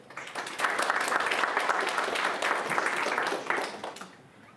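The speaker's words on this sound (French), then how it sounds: "Et vous pouvez l'applaudir." An audience at a conference on web3 breaks into warm, full applause for a speaker, dense clapping swelling quickly and holding steady before tapering off at the end.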